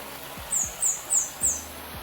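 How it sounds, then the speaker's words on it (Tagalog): Four short, high bird calls repeat at a steady pace over quiet outdoor ambience, with a few low thumps underneath. "Mga ibon pa dito."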